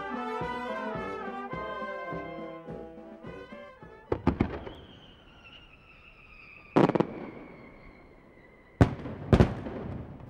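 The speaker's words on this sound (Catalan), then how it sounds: "aquest esclat de llums, colors i soroll que es produeix cada any a Blanes és un espectacle" Music plays at first, then fireworks burst over Blanes, Catalonia: sharp booming bursts ring out in scattered clusters, with a rising whistle and lingering crackle between the loud bangs.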